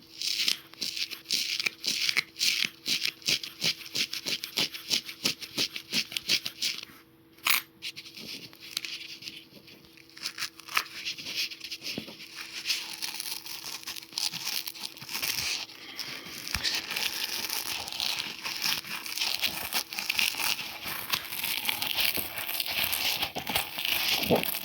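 Material peeled back by hand gives a long run of close crinkling, tearing and crackling with dense irregular snaps, a brief pause partway, then a steadier rustle.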